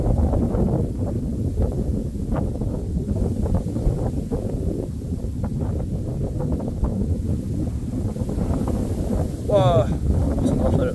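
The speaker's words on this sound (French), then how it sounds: "Wouah, c'est une rafale." Strong, roaring wind gusts buffet the microphone during a supercell thunderstorm, a steady loud rush that swells near the end, with a brief voice briefly audible over it.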